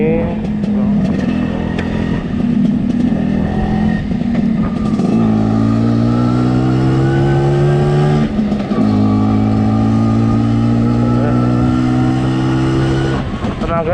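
A 1976 Vespa Super scooter engine heard while riding, its two-stroke drone loud and close, revving up through the gears with pitch rising then dropping at shifts, a voice talking over it.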